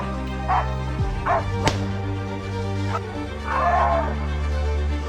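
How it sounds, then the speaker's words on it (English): Hunting hounds bark and yip repeatedly during a wild boar hunt, loud and close, with a few sharp barks, an excited cluster of yelps and whimpering between them. "suddenly the barking of hounds shattered the silence"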